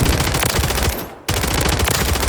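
Rapid automatic gunfire in the video game Warzone blasts loud and close in a dense continuous burst, breaks off briefly, then resumes at full force.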